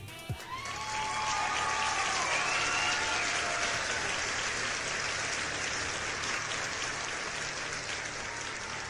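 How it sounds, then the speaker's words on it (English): Sustained applause that starts abruptly and holds at an even, full level for several seconds, with faint tonal sounds briefly underneath at the start. "That deserves a round of applause."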